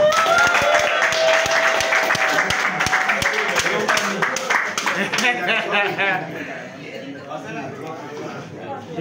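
Audience applause after a wine bottle's cork is opened, dense clapping loud at first then thinning and fading toward the end, with voices mixed in.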